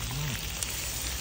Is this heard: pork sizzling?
yes